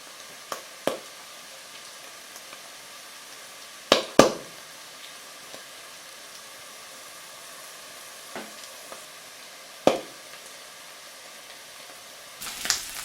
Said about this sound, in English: Continue stirring so that the mushrooms will become evenly browned.